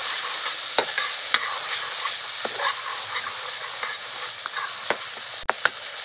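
Spice masala for urad kadhi sizzles and fries in a pan while a spoon stirs it, with sharp scraping clicks against the metal standing out over a constant hiss.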